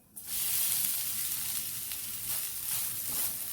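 Cashews and grated coconut fry in a pan, giving a steady, close sizzle that starts abruptly and holds at an even level for a few seconds, with no voices.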